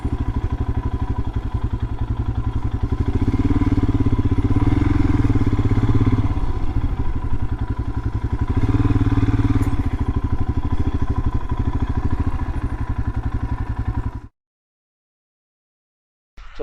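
A Royal Enfield Himalayan motorcycle rides along on a Scottish road, its engine a loud, close, rhythmic thumping chug that rises and eases with throttle changes for about fourteen seconds before cutting to silence.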